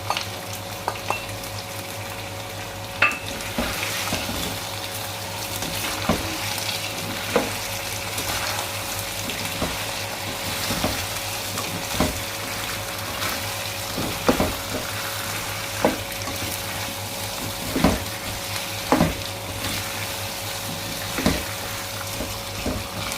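Taro root frying in a pan, a steady low sizzle with periodic sharp clicks and scrapes of a spoon stirring at regular intervals, close by and with no talking.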